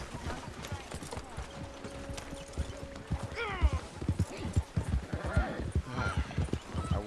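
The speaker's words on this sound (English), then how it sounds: "Now I have to drive my horse again?" Horse hooves clip-clop steadily in the Red Dead video game, a continuous trotting rhythm of sharp, moderately loud hoof strikes with occasional louder bursts.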